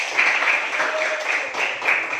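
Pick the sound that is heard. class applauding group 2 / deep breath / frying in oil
class applauding group 2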